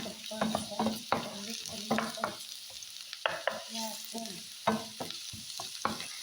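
Garlic sizzles in a hot pan while being stirred, steady frying hiss broken by repeated scraping and clattering strokes of a utensil, close up, with no talking.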